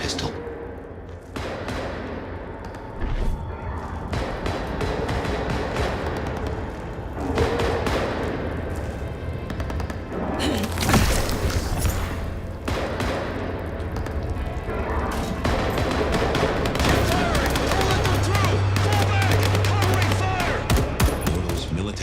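Gunfire in the video game Vampire: The Masquerade – Bloodlines 2: dense bursts of gunshots and heavy impacts crackle over a loud, continuous battle din, with a voice speaking in places.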